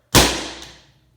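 Single sharp crack of an Umarex HDP 50 pistol dry firing, a loud close snap followed by a short fading ring-out, with no talking.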